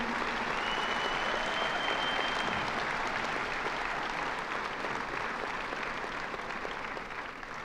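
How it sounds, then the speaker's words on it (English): At a technical college graduation, the audience claps for retiring staff members after long service, a steady, full round of applause that carries on evenly and eases slightly near the end. "Everyone please join me in giving them a round of applause for a job well done."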